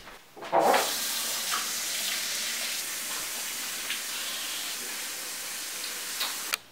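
Tap water runs steadily into a kitchen sink while freshly picked organic garden vegetables are washed, a continuous close splashing hiss with brief louder gushes near the start and end.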